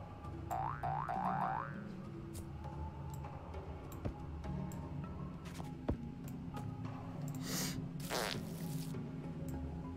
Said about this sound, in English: Don't you love farting plants?